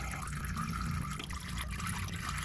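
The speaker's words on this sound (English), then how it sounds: "Right now it is all dripping into my pan" BMW M3 DCT transmission oil drains from the S55-engined car into a drain pan, a continuous liquid trickle with steady splashing, close and moderately loud.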